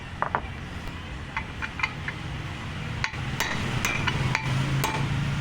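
A hammer taps metal on a Suzuki Raider FI 150 motorcycle engine in a series of light, uneven strikes, close by, over a steady background hum.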